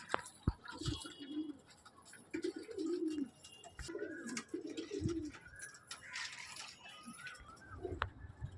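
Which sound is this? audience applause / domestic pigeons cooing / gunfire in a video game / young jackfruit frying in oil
domestic pigeons cooing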